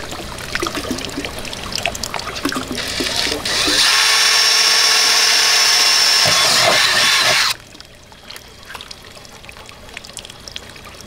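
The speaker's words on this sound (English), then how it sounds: "is just drill a small hole, and at least drill a small hole just, I don't know, right under that round lip" Power drill boring a small hole in a metal stock tank being built into a fish pond, a loud steady whine for about four seconds between stretches of trickling water and handling noise.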